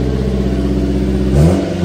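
A Subaru Sambar engine idles with a steady mid-pitched drone after a carburetor rebuild, then throttles up into a louder, rising rev near the end, heard close and alone.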